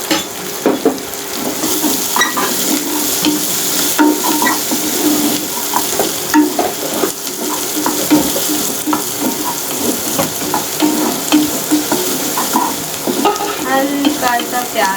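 Onions sizzle loudly in hot oil with browned cumin seeds, a steady frying hiss broken by repeated scraping and clinks of a spoon stirring in the pan, close and continuous throughout with no voices.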